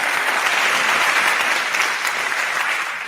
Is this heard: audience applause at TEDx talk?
yes